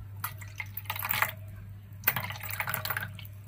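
Water poured from a measured portion into a mixing container while making soft sausage bread dough, giving two short bursts of splashing and trickling close by, with a steady low hum underneath.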